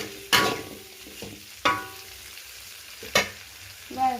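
Tomatoes frying in a pan, with a steady low sizzle punctuated by three or four sharp stirring clacks of a utensil against the pan at regular intervals, close and moderately loud.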